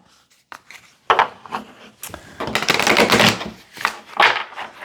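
Tarot cards get a quick shuffle, with a few soft separate riffles at first and then a denser run of papery flicking and rubbing, close and fairly loud.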